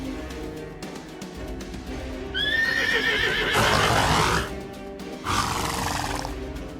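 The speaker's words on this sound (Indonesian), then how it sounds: "Suara kuda lagi." A horse neighs loudly in a long, wavering whinny, then a second whinny follows after a brief pause, both close and dominant over background noise.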